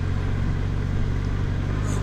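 Steady engine drone and road rumble surround a motorcyclist riding against the flow of traffic at a busy time of morning, with a constant, close, unbroken roar throughout.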